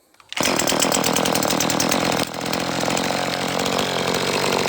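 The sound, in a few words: small ECHO chainsaw running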